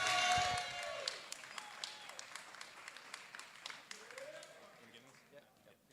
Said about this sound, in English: One more loud cheer for St.